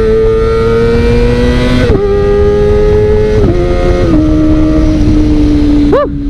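A modified Kawasaki Ninja ZX25R is ridden with a loud, high-revving engine close by. Several quick upshifts drop the pitch in steps, and a sharp throttle blip comes at the end.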